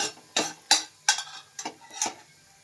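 Garlic going into a pan for a Telugu-style fenugreek leaf and tomato curry: a series of scraping stirs and metal clinks against the pan, about seven short separate strokes with a faint sizzle beneath them.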